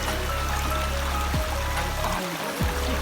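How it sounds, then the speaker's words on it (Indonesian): A mountain stream flows with a steady broadband rush just behind a forest gate on a hiking trail, continuous and close, with a brief dip in the low rumble. "Sekarang kami sampai di tempat pengambilan air, yaitu alur sungai yang berada tepat di belakang pintu rimba."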